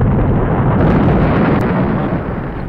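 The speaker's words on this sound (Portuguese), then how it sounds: "Olha a explosão" A loud, sustained rumbling blast from the intro of the video game Nightmare Creatures 2, broadband and dense throughout, slowly tapering toward the end with no talk over it.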